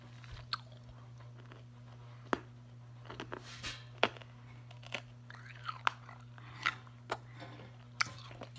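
Candy canes being chewed close up: sharp, crunchy bites and cracks recur irregularly over a steady low hum, with softer mouth sounds between the louder crunches.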